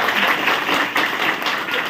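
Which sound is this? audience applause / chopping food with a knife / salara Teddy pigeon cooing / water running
audience applause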